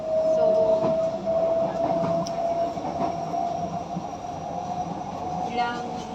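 A metro train rumbles steadily along with a sustained hum and faint squeal, wheels clacking softly; muffled voices blend into the background of an MRT station in Singapore.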